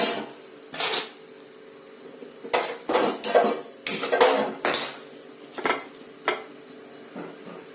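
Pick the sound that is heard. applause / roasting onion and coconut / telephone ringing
roasting onion and coconut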